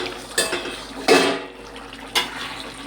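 A metal lid lifts off a pot of simmering chicken curry with potatoes, giving a few sharp clanks and a scrape of metal, with faint bubbling in between and no talking.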